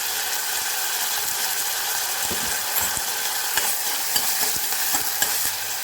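Onions, cloves, a little stone flower and curry leaves fry in a pan for a mushroom kulambu, giving a constant crackling sizzle with light ticks and spoon scrapes scattered through it, and no voices.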